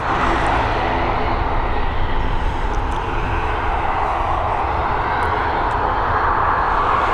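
An airplane takes off at Dublin Airport, its engines giving a loud, continuous roar that stays strong and steady throughout.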